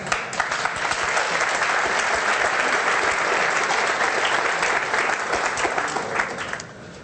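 A lecture audience bursts into sustained applause, loud and dense with a slight swell, keeping up for several seconds before tapering off near the end.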